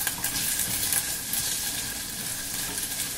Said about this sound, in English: See, I'm stirring it around so that the olive oil is evenly coated.